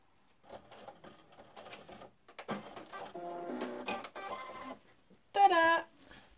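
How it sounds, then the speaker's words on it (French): A sewing machine runs a straight stitch joining a pocket to its pocket lining, with short bursts of whirring motor and rapid needle clatter separated by pauses, closing on a brief higher electronic beep. "je vais coudre le fond de poche et la poche au point droit"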